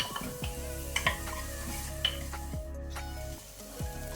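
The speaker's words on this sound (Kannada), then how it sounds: "ಈರುಳ್ಳಿಯನ್ನು ಸ್ವಲ್ಪ ಫ್ರೈ ಮಾಡ್ಕೊಳ್ಳುವ ಮೀಡಿಯಂ ಫ್ಲೇಮಲ್ಲಿ" Chopped onions fry on a medium flame for a tinda (apple gourd) chicken masala, giving a steady close sizzle broken by a few sharp clinks and scrapes as they are stirred in the pan.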